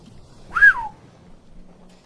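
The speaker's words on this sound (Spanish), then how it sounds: "Silver dio un ligero silbido" A light, brief whistle rising then falling, given by a pirate signalling in Treasure Island, sounds alone against quiet background.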